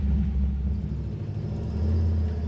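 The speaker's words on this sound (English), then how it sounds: "you do hear the exhaust with it being side exiting right there, but it's got a really good note to it" A 1968 Chevrolet C10 truck with an LS engine swap and side-exit exhaust rumbles deep and loud while driving, a steady low drone that swells slightly near the end, with no voices.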